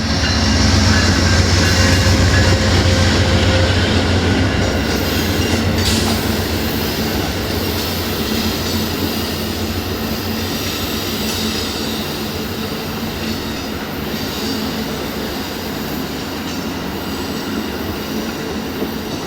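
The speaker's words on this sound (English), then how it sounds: "Seen here is Amtrak 91 taking the Auburndale connection to head south." Amtrak 91, a passenger train on Florida's A-Line, takes the Auburndale connection southbound as a loud, sustained rumble with grinding and squealing wheels that stays strong throughout before easing slightly.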